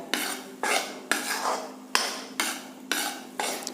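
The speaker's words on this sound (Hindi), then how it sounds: "बेसन भूनता जा रहा है" Gram flour roasting in ghee is stirred in a pan, a regular series of about seven sharp metallic scrapes and knocks about half a second apart, close and fairly loud, with no voices.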